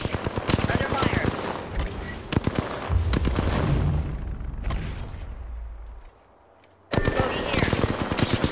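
Rapid automatic gunfire in the Apex Legends shooter, dense bursts of shots with a heavy low thud mid-clip, a brief near-silent gap, then another sharp burst of firing.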